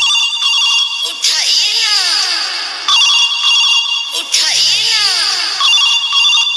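A phone ringtone plays in repeating electronic bursts, loud and close, with short gaps between rings; no voices.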